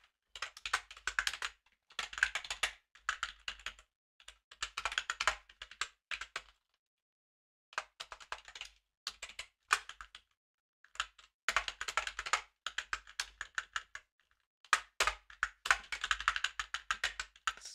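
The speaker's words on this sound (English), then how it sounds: "I'm just going to type out this stuff." Quiet computer keyboard typing comes in quick bursts of keystrokes, with short silent pauses between the flurries.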